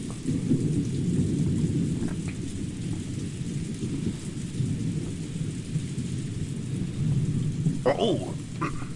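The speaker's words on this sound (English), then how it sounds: "looks like it's finally started raining" Steady rain hiss with low rolling thunder rumbling throughout a storm scene in the visual novel Umineko, a brief brighter crackle near the end, no voices.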